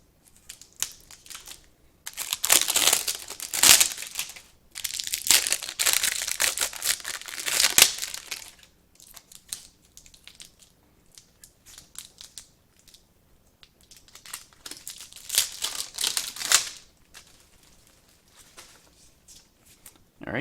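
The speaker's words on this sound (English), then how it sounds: "Let's get the rest of this plastic off here." Plastic wrapping crinkles and tears as it is pulled off a customized nagamaki sword, coming in several loud, close bursts of rustling with quieter gaps between.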